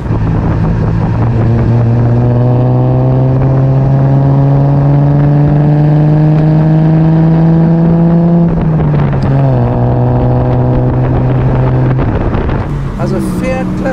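A 1958 Lancia Aurelia B20 S GT sports car pulls away hard, its engine note rising steadily in a strong, continuous drone before a brief dip and a second climb, heard up close from inside the car with wind rush throughout.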